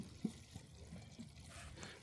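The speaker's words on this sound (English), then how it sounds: "there is a little burp valve on there, so it will just smoothly pour in" DEF fluid pouring from a container into the tank of a 2019 Mercedes Sprinter van, a faint steady liquid trickle with soft gurgles, close by and alone.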